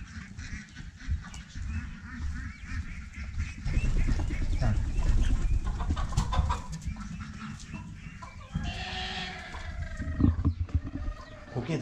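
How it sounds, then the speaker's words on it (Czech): Startled hens flapping and squawking inside a henhouse, a laying hen scared off her nest, with loud agitated clucking and cackling bursts rising midway, plus rustling, close to the mic. "Tady normálně sedí slepice a snáší vajíčka, jo, a ta se hned vyplašila"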